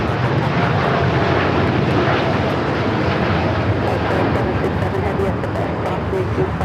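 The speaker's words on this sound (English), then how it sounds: "Air Tahiti Nui Flight 8 taking off to Paris on the 787-9 Dreamliner." An Air Tahiti Nui Boeing 787-9 Dreamliner takes off at LAX, bound for Paris, with a loud, steady, broadband engine roar that holds for the whole stretch while voices talk over it.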